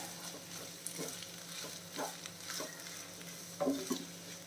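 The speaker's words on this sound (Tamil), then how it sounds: "வந்து நாம் இதை கிளறிடுவோம்" Eggs being stirred in a hot frying pan, with a steady sizzle of frying under soft scraping strokes and a few louder stirs near the end.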